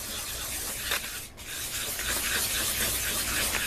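Close, continuous rubbing as a plastic headlight lens is wet-sanded in circular strokes with 800 grit sandpaper, a steady scratchy hiss with one brief pause partway through.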